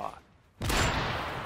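A single sharp sniper rifle shot from a first-person shooter game cracks loudly after a short quiet stretch and rings out with a lingering tail.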